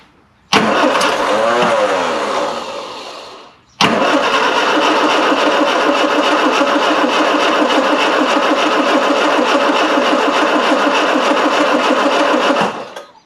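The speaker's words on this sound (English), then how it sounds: "The fuel tank's now a little bit higher and it still won't crank." A classic Mini van engine, off the road for 25 years and starved of fuel by a failing pump, cranks without catching: a short churning burst, a brief pause, then a long steady grinding crank of about nine seconds, loud and close, with no talking.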